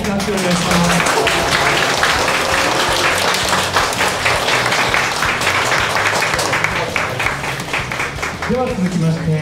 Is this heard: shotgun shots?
no